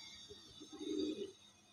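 A racer pigeon gives a soft, low cooing call near the middle of a short quiet stretch, close by and faint, with a steady high background hiss.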